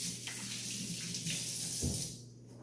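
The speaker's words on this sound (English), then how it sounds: "Let me go wash my hands real quick." Tap water running steadily into a sink as hands are washed in a home kitchen while baking chocolate crinkle cookies, a close, continuous hiss with a brief splashing change near the end, no talking.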